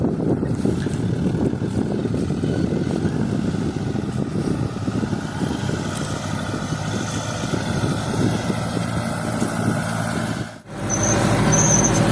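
A Tümosan 7480 tractor engine drones steadily at close range from inside the cab while no-till sowing vetch into stubble, with wind-like noise over it, then briefly dips before resuming.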